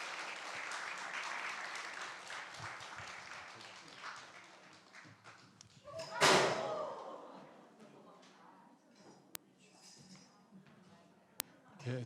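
A church audience claps to welcome a pastor, scattered applause over the first few seconds and then a sharp loud burst, after which a voice speaks into a quieter room.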